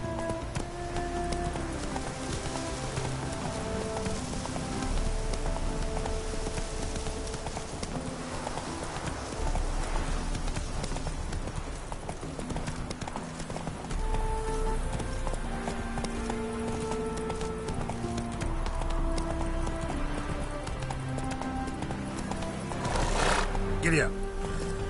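Roach, a horse in the video game Witcher 3, gallops with steady rhythmic hoof clip-clops over a dense game score, with an occasional whinny and brief talk from a voice.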